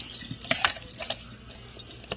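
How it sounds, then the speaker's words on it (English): A bowl is rinsed under a running kitchen tap, with soft, steady water flow punctuated by a few brighter splashes and drips as it hits the dish, fairly quiet and close. "Now let's rinse this bowl"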